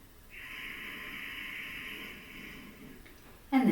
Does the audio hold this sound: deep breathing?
yes